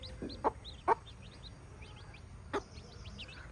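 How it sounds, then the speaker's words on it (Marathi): A mother hen clucks three times at irregular intervals, softer and a little distant, while her chicks give thin, high peeping calls around her; there is no speech. "बघा ती शिकवते कोंबडी"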